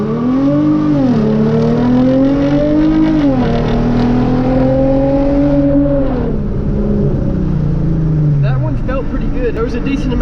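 A Hyundai Genesis Coupe launching hard in a 0 to 60 run, its engine rising loud and close through several gears with clear pitch drops at each shift before easing off near the end.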